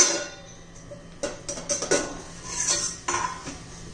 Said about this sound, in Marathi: हे पहा, आपण आता झाकण काढून पाहूया.